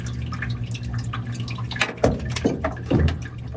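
Stagnant water drips and splashes out of a Maytag Maxima washer that will not drain, with irregular trickles building into a few louder gushes close by.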